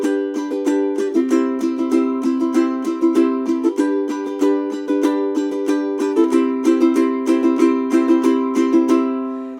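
Ukulele strumming a quick down-down-up pattern for a song, a steady, bouncy run of bright strums with chord changes, played close and alone without talk.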